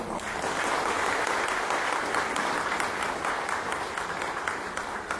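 A large gathered crowd at a 73rd birthday celebration for a revered figure at a Dharmasthala event gives sustained, dense applause that stays steady and loud throughout, with no voices.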